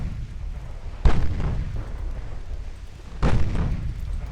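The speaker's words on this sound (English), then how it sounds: "All secondaries fire at that heavy cruiser, please." Secondary naval guns fire on a heavy cruiser in the Ultimate Admiral Dreadnoughts game, two booming reports about two seconds apart, each with a rumbling tail over steady low battle noise, no talk.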